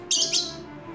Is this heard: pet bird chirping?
yes